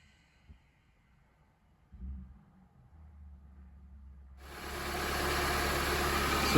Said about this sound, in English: So you can hear the car running here